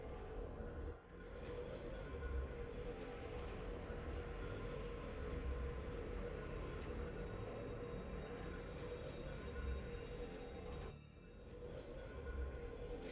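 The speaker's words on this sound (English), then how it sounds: "There we go. There's our tram." A Skytram in Metroid Prime 4 glides along its line with a steady low mechanical hum and rumble, faint and continuous, with brief dips near the start and end and no talking.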